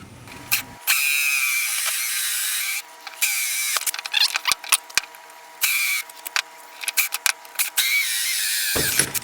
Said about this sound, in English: Now you put in your hole saw, and we're going to drill it out.